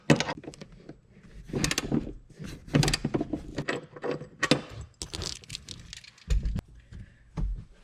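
Metal bolts being worked loose inside a 2018 Subaru WRX STI cabin, with repeated close ratcheting clicks, clanks and rattling mechanical bursts in an uneven rhythm.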